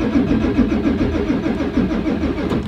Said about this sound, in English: it shouldn't take this long to crank and fire